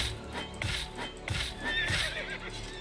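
A horse in a video game whinnies repeatedly over about three seconds, with clip-clopping hoof sounds underneath, loud and close with no talking.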